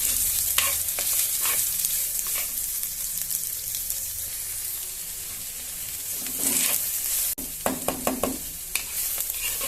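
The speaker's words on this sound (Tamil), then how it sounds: "இப்போ வெங்காயம் நல்லா வதக்கி விட்டுடலாம்" Chopped onions and aloe vera flowers sauté in a pan, giving a continuous close sizzle broken by bursts of spatula scraping and clattering, heaviest toward the end, with no voices.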